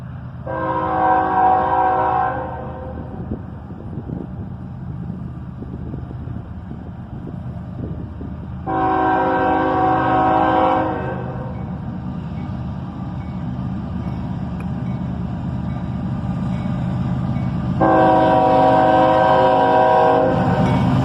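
A CSX freight train heads north out of Carlisle, past a gas station, with its engines rumbling steadily and three long horn blasts spaced several seconds apart.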